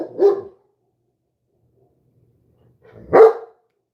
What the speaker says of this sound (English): there's another dog out there barking too